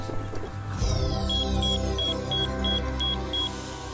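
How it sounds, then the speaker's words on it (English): A series of short, evenly spaced electronic beeps from The Talos Principle repeats over a steady synthetic hum and tonal background, a game signal chiming in rhythm as a room opens. "Beeping means that the room that we walked past earlier is now open"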